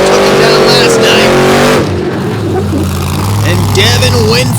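A big Ford Raptor monster truck roars at a stadium event, its engine loud and rising in pitch before dropping off, then rumbling on as an announcer talks over it.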